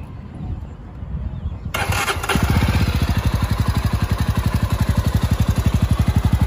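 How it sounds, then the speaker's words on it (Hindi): A Jawa 42 2.1 BS6 motorcycle with its stock dual exhaust cranks and fires up after a short quiet stretch, then settles into a loud, steady, rapid idle thump close by. "और अब इंजन ऑन करते हैं।"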